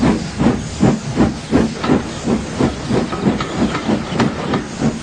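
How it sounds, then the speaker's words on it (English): A small steam locomotive pulling away, loud rhythmic chuffs of steam repeating at a steady, slightly quickening pace under a continuous hiss, close and clear with no talk. "James collected his passengers and respectfully puffed away."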